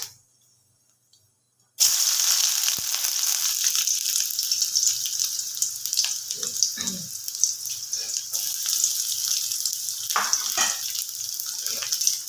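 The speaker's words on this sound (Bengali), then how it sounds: "তেলটা গরম হয়ে গেছে প্রথমেই দিয়ে দেব একটু কালো জিরে ফোড়ন তারপরে দেব একটু পেঁয়াজ" Nigella seeds and onion dropped into hot oil in a pan, a brief quiet stretch before a sudden loud burst of sizzling that continues as a steady crackling fry, with occasional stirring clinks.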